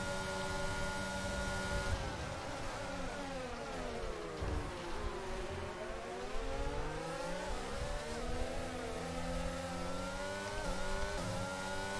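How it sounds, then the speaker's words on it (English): A line of F1 race cars in F1 22 at Bahrain streaming past, a loud continuous high-pitched engine whine with layered pitch sweeps as several cars approach and pass close by, no voices. "here comes a whole train of cars"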